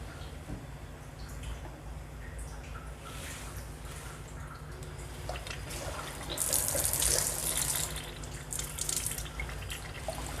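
Water pours steadily from a Kangen water ionizer machine into a container, a continuous close splashing flow that grows a little louder and brighter partway through, with no one speaking.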